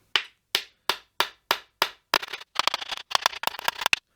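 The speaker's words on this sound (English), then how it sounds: "And if you want to, you can hit them with a hammer, which I'm going to do." A small hammer taps pins into a Les Paul guitar, first six evenly spaced sharp knocks, then a quicker cluster of lighter rapid taps, close and alone.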